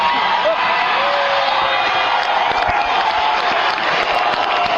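A studio radio-show audience cheers loudly and steadily, a dense wash of crowd noise with whoops and applause holding at constant volume throughout, no individual voices standing out.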